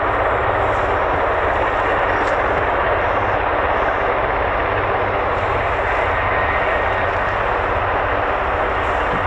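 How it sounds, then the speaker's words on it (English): A CV-22 Osprey tiltrotor aircraft makes a conventional takeoff at RAF Mildenhall, a loud, steady, broadband engine roar sustained throughout, heard close with no talking. "it's not that common to see a conventional takeoff from the Osprey"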